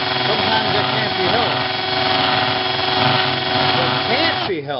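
Electric drill boring into a glass bottle, a steady loud motor whine with grinding overtones, running continuously and cutting off abruptly near the end.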